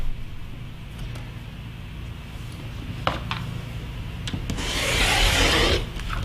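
Fabric being trimmed for a cross-stitch pillow, with short scissor snips and rubbing of cloth, then a longer, louder rasping cut near the end, all close and quiet with no talk.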